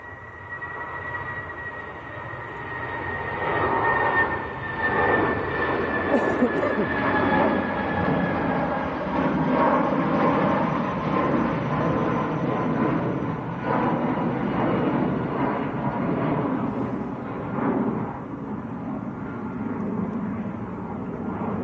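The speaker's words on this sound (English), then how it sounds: "Eurowings on the roll" A Eurowings Airbus A319 bound for Hamburg rolls for takeoff at Manchester Airport, its jet engines building into a sustained, broad roar that holds throughout, with a voice talking over it.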